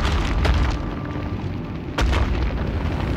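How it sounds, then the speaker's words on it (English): Explosions from the video game Trine 3: The Artifacts of Power, two booming blasts about a second and a half apart, loud and close with deep rumbling low end, no talking over them. "So they're exploding"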